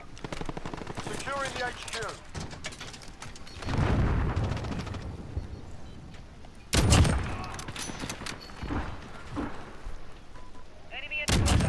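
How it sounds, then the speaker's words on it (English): Sentry gun fire and other shots in the Call of Duty Modern Warfare shooter game, continuous rattling gunfire with heavy booms, under game radio voices and a player talking. "Got a sentry gun on station."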